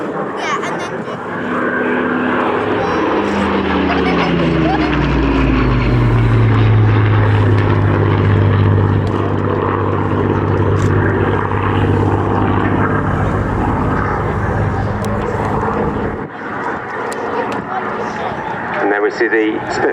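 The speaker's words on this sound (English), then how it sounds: "See the Spitfire pulling up into the manoeuvre that we call the half horizontal into a descending left-hand turn." A Supermarine Spitfire propeller engine drones loudly and continuously at an airshow display, its pitch sliding downward as the aircraft pulls through a manoeuvre and turns away, with a commentator's voice faintly beneath the roar.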